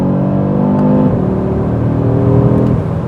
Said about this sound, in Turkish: Şimdi biraz gaza basacağım. Şu performansa bakın.